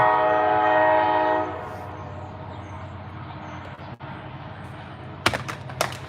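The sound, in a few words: passing train with horn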